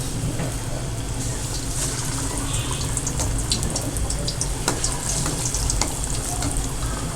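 Pizza cutlets fry in hot oil over a low flame, giving a steady, close sizzle with scattered sharp pops and crackles throughout.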